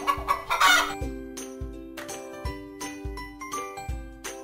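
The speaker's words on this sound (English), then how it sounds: "Chicken." A chicken clucks several times in short bursts, followed by a steady series of bright chime-like tones repeating at an even pace.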